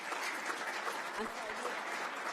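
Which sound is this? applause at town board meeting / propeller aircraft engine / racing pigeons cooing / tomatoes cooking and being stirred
applause at town board meeting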